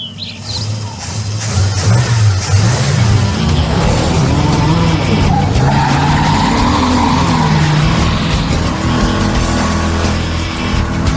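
A car engine revs hard and roars continuously during a burnout, with rising and falling pitch and a harsh tire squeal mixed in, loud and close throughout.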